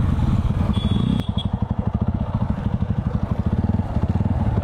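Motorcycle engine close by, pulsing with a rapid, steady rhythm as the bike rides along a busy road, loud and continuous after a brief clatter.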